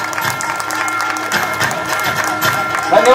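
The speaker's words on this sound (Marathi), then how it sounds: "यांचा जोरदार टाळ्या झाल्या पाहिजेत." An audience at a playgroup and nursery school annual function claps and cheers for a prize winner, busy crowd noise with mixed voices and shouts rising slightly toward the end.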